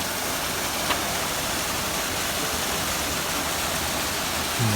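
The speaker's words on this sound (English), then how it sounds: "There's a little creek crossing." Small creek flowing across a hiking trail on the North Kaibab Trail in the Grand Canyon, a steady close broadband wash of running water with no voices.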